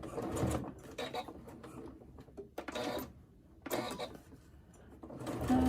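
Sewing machine stitching a crossbody bag, running in two close, busy bursts of rapid mechanical whirring separated by short pauses.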